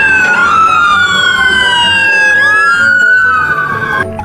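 A loud wailing siren sweeps up and down continuously, close by, with a faint engine rumble beneath.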